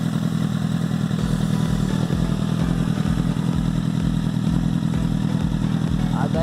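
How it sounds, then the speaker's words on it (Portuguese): Honda CBR1000RR Fireblade fitted with a Hurricane HF1 conical stainless-steel exhaust and carbon-fibre tip, idling with a deep, loud rumble and a steady rhythm of low thudding pulses, close to the listener. "Dá uma demonstração do ronco aí pra vocês"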